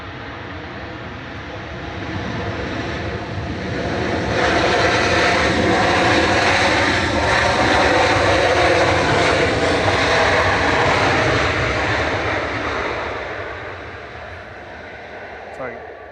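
Airliner engines roar continuously at Manchester Airport during plane spotting, a loud broad rush swelling to a peak mid-way and slowly fading as the aircraft passes.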